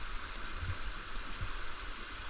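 Walupt Creek flows steadily on a sunny day along a forest trail with fallen logs, near a waterfall. The water makes an even, continuous rushing hiss with no talking.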